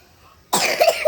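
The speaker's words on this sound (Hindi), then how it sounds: "खांसी बहुत आता है वो।" A child gives a sudden burst of coughing after a brief quiet moment at home, two or three short harsh coughs close to the microphone.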